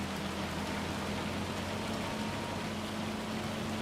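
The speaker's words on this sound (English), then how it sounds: "We're getting hail. We're getting hail." Hail falls during a storm in the video game Farming Simulator 25, a dense, steady hiss of pelting ice with a low hum beneath, continuous and even throughout.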